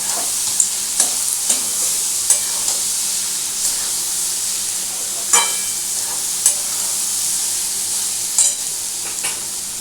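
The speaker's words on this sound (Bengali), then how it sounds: "এইটাকে এর মধ্যে দিয়ে আমি এখন করব নাড়াচাড়া।" Potato and paneer curry fries in a pan with a continuous bright sizzle, while a spoon stirs it with occasional scraping knocks against the pan at irregular intervals; no voices.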